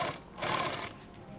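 A sewing machine top-stitches the seam of a 2-quart canteen, a quiet, fast mechanical whirr in two short bursts separated by a brief dip.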